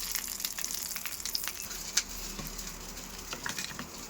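Curry leaves tempering in sesame oil, a soft steady sizzle and frying crackle with a few sharp pops, close and fairly quiet, no talking.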